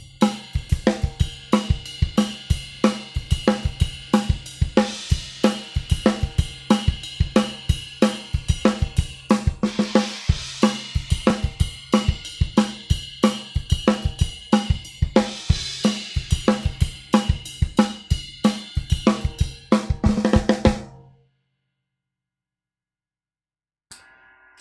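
Drum kit ride bell pattern from the chorus of a song, with bright bell pings riding over steady kick and snare hits, loud and close, stopping abruptly near the end.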